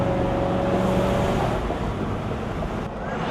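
A Ford Mustang restomod driving on the road, its engine and tyre rumble a steady, loud, continuous drone heard from inside or close by, with no talk over it.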